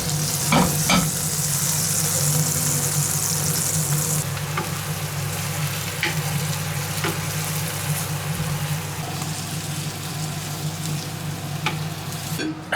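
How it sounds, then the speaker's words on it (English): Bread toasting with butter in a very hot pan in a home kitchen in Mallorca, giving a loud, continuous sizzle and fry with occasional light clinks and scrapes. "I'm going to toast the bread on the top here in the pan."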